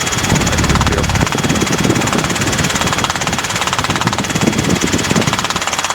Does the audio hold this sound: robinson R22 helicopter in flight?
yes